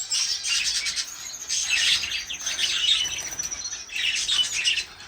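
Pet finches chirping and tweeting in bursts of high, thin calls, with brief gaps between the flurries. The birds sound close, and a faint flutter of wings joins the calls.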